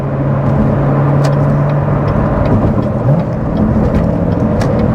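Manual Chevrolet Corvette C7 Z06 on the move, its engine a loud, steady low drone close by, rising briefly in pitch around a gear change before settling into a constant hum with road noise.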